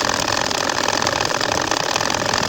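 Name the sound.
sewing machine stitching a baby quilt (kantha)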